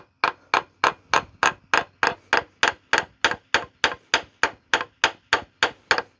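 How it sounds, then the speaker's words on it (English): A wooden hammer taps on a ball joint of a Dana 30 axle, sixteen or so sharp, evenly paced knocks in quick steady rhythm, close and loud with no speech. "I'm using the end of a wooden hammer"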